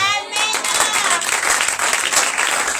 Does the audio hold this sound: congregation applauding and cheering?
yes